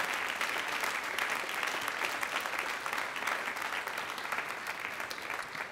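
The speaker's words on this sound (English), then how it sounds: "Can we give people a round of applause?" A church congregation applauds in a continuous, dense wash of clapping from start to finish, moderately distant and easing slightly toward the end.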